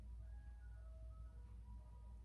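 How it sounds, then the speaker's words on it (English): An ice cream truck's tinkling melody drifts from a distance, thin and faint over a low steady hum, with no talking. "I hear the ice cream truck."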